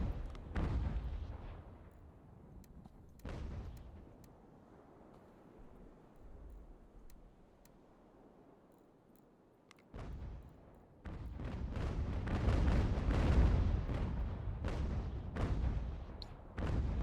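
Cannon fire in the naval battle game Ultimate General: American Revolution: several booming shots, a few sharp reports early, then a dense rolling volley of heavy blasts toward the end.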